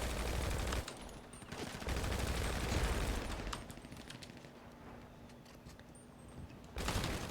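Bursts of gunfire in a NoPixel GTA roleplay game session, dense crackling volleys in the opening seconds that thin out midway and flare up again at the end.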